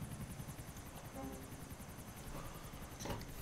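Helicopter flying in the video game GTA 4, with a steady rapid rotor chop and engine drone throughout, fairly faint and even, alongside a brief mechanical clatter near the end.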